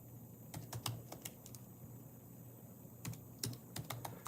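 Keys clatter on a computer keyboard in two quick bursts separated by a pause, close and fairly quiet against a low steady hum.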